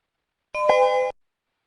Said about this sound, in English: the beep that we just heard someone entering